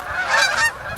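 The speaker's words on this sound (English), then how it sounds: "And the geese love it too." Geese honk loudly close by, a brief cluster of overlapping nasal calls peaking in the middle of the second.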